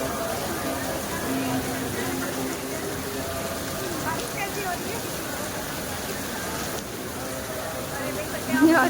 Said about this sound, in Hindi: यहाँ पे इतनी ज़्यादा बारिश हो रही थी